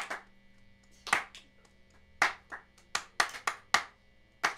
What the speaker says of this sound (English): What's happening? We're clapping.